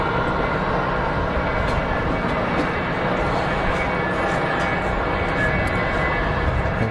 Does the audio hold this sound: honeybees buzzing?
no